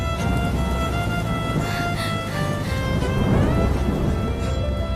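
Steady rain pours outside, a dense continuous hiss with a low rumble of thunder rolling beneath it; no voices are heard.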